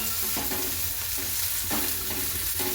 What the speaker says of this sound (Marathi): 1 ते 2 मिनिट ह्याला परतायचं